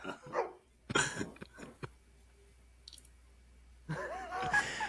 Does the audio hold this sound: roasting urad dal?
no